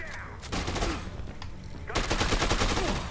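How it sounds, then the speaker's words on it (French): Assault rifle fire rattles in the video game Dead Rising 2, two short bursts of rapid shots close and loud, with game sounds between them. "Fusil d'assaut."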